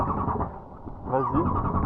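A stalled scooter engine being restarted, running close and steady with a brief rising rev partway through, while people talk over it.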